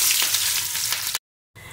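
Chopped onion frying in hot mustard oil, a loud, bright, close sizzle that cuts off abruptly to silence and then resumes briefly.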